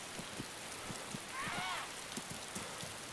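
Steady rain falls in the DayZ survival game, a continuous hiss with soft periodic footstep thuds as a character runs, plus a brief swooshing tone in the middle.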